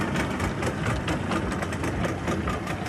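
A steady, loud motorboat engine drones close by on a short crossing from an island to the mainland in Belize, its low pulsing rumble continuous with no voices.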